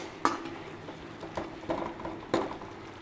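A spice paste for a Bengali shrimp dish is stir-fried in a pan with a splash of water. A few sharp utensil scrapes and clinks sit over a faint, low sizzle, close and quiet.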